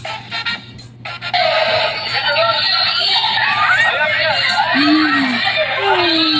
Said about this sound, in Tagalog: Sigawan, grabe.